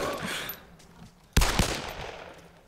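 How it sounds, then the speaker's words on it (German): Gunfire in the video game Arma 2 cracks out in a sudden loud burst midway after a quieter stretch, with another shot starting right at the end. "dann fang ich an zu schießen."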